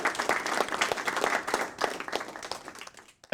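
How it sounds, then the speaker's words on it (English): A crowd claps in a burst of applause that holds steady for a few seconds, then thins and fades out, with a faint voice at the very end. "Clap them off. Yep. Clapping them off."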